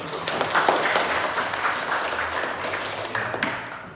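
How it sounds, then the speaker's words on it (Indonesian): A classroom of students claps together in a sustained round of applause, fairly close and steady, tapering off toward the end. "Berikan aplaus dulu."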